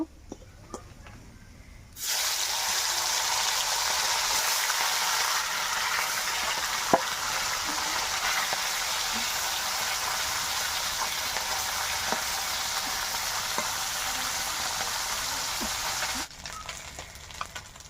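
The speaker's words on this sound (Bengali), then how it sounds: "তো বাদ বাকি মাছগুলো ভেজে নেব।" Steady, loud sizzling of parshe fish frying in hot oil, starting abruptly and running unbroken for about fourteen seconds before cutting off, with no talking.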